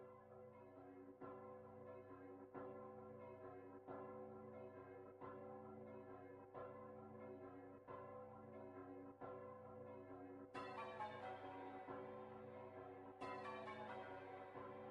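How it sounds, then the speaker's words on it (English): Church bells ring in a steady, evenly spaced series of resonant strikes, about one every second and a half, with brighter overlapping peals joining near the end; moderately loud and alone. "Those bells."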